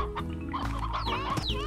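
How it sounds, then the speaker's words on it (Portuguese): A chicken clucks inside the game Slime Rancher, a quick run of short, close, pitched clucks with a few rising squawks, alone over a faint steady background hum. "Essa galinha tá botando ovo?"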